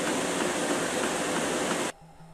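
A window air conditioner converted into a split unit runs with a steady, loud, broadband whoosh of fan and airflow for about two seconds, then cuts off abruptly, leaving a faint low hum.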